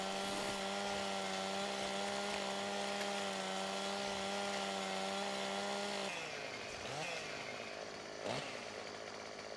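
A chainsaw cuts trees in the video game Farming Simulator 17: a steady buzzing engine drone for several seconds, then the pitch drops and roughens as the blade bites into wood, fairly faint overall.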